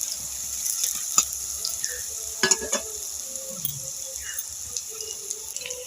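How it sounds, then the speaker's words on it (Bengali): Onions fry in a pan for a flattened-rice tiffin dish, a faint, steady sizzle with light stirring and a few soft clinks and scrapes throughout. "পেঁয়াজগুলো এবার ভেজে নেব।"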